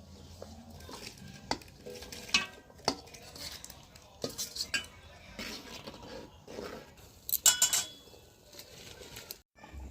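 Vegetables go into a pot of boiled gobindobhog rice and lentils for khichuri and get stirred, with repeated metal spoon scrapes and clanks against the pot, a faint sizzle, and a bird chirping softly in the background.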